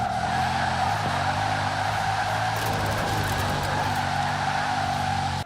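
A Bugatti Chiron in Forza Horizon 4 accelerates hard, its engine a steady, loud, sustained roar with tonal harmonics and some tire noise, heard alone without talk.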